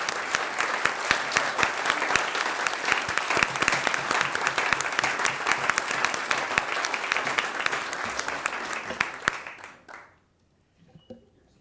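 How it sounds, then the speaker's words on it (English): A sustained round of applause for students and staff at a school recognition event, loud and dense for about nine seconds before quickly fading out, leaving near silence with a few faint sounds. "Everyone, please join me in a final round of applause for these students and staff"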